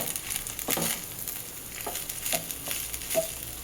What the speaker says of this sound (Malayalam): ഇനി നമുക്ക് ചോറിടാം കേട്ടോ ഇളക്കി കൊടുക്കാം